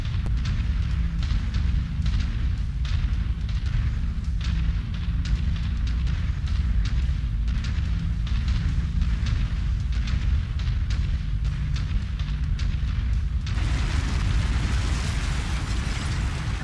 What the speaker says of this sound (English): I see weapons fire.